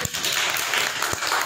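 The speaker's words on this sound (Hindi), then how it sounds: "लो ताली बजाओ" Children in a classroom clap together for a classmate, a steady patter of small hands filling the whole moment at close range, with a couple of sharper claps standing out.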